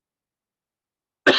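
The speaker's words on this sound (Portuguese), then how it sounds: "Eu queria pedir 1000 desculpas por essa tosse chata que não passa." A single sharp, close cough breaks a stretch of silence right at the end.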